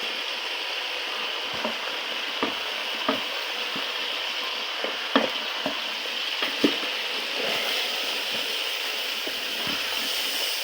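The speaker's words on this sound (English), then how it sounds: "Now our meat is ready to be added." Meat sizzles and fries steadily in a pot for an African family meal, a continuous close hiss broken by scattered sharp crackles and pops throughout, with no talk.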